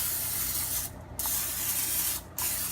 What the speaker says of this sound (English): I basically spray this pan with some cooking spray.